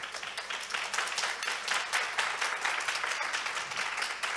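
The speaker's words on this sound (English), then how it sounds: "If you'll join me in giving her a warm round of applause." A warm round of audience applause welcomes a speaker to a foreign-policy talk at the Inclusivity Lounge at the Thessaloniki International Fair, steady dense clapping filling the whole stretch.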